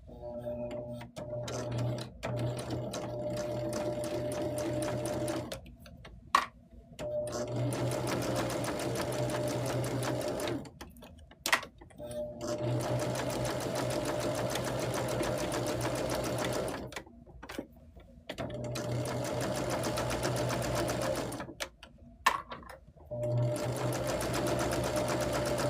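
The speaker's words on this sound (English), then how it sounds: "I am going to just sew close to this edge just to secure it." A sewing machine stitches close to the edge of a patchwork pillowcase cover, whirring steadily in several long runs separated by short pauses, fairly quiet and close.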